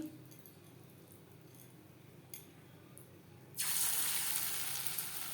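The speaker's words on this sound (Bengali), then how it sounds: "এবার আমি পাকোড়া ভেজে নেব।" Onion and cabbage pakora going into hot refined oil, a quiet lead-in and then a sudden, loud, sustained hissing sizzle as the batter hits the oil, close by.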